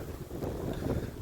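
Strong wind gusting across open fields during a blizzard, a steady broadband roar buffeting the microphone with no voices.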